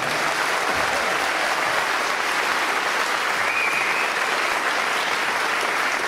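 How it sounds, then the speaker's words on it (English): Theatre audience applauding steadily and loudly throughout, a dense wash of many hands clapping with no pauses. "So please give a round of applause to the guys behind Limerick City of Culture."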